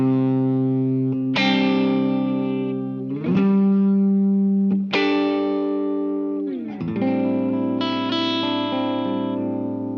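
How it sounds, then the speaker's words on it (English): An electric guitar played through a Line 6 Helix LT on a clean tone, sustained chords struck a few times and left ringing, with sharp attacks and slow decay, played alone. "Here's the clean tone."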